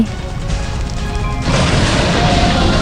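Shots fire at a boss in the Ocean King 4 fish shooting arcade game, producing a dense wash of crashing, booming hits that grows louder and busier midway and keeps going steadily.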